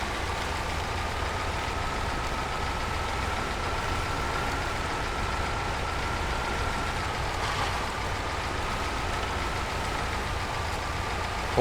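A truck in the SnowRunner video game pulls a trailer uphill in low gear, with a steady heavy engine drone and a faint thin whine held through the whole stretch, and no voices.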